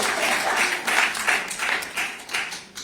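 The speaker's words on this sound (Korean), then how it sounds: "박수 한 번 주십시오" A crowd at a political launch ceremony for a citizens' investigation group claps in a steady, pulsing rhythm, with the loudness swelling and dipping in regular beats and no voice heard over it.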